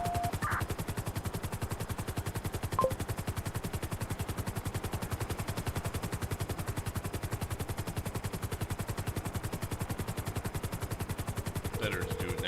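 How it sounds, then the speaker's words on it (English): Sustained rapid gunfire rattles on in a GTA 5 roleplay game, an evenly paced automatic burst repeating for over twelve seconds at moderate level, with a steady rotor-like drone and a few brief radio chirps. "Instead of just hovering there to listen to gunfire."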